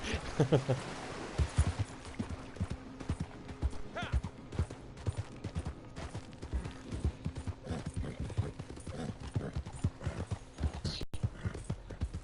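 Horse hooves in the video game Red Dead Redemption 2 Online clip-clop steadily at a walking pace, with a voice speaking intermittently over the rhythmic clatter.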